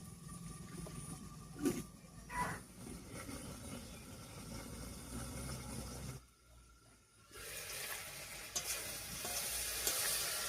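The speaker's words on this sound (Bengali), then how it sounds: "ঢাকা দিয়ে মশলা কষিয়ে নিলে দেখতেও ভালো হয় আর রান্নাটাও কিন্তু খুব টেস্টি হয়" Chicken fries with spices under a lid with a steady, fairly quiet sizzle and hiss that drops off briefly partway through, then returns with a few soft knocks.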